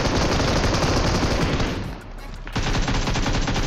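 An M249 light machine gun fires in BGMI, a loud, sustained stream of rapid shots that breaks off briefly, then resumes in another long, steady burst.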